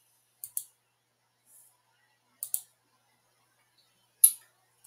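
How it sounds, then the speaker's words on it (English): A computer mouse clicks crisply at close range in a quiet room: two quick double clicks a couple of seconds apart, a faint tap between them, then one sharper single click. "use your mouse to click more than one option"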